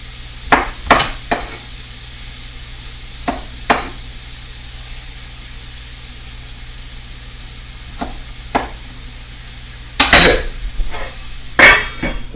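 Onions fry in a pan with a soft, steady sizzle, punctuated by sharp scrapes and clacks of stirring, close by and irregularly spaced.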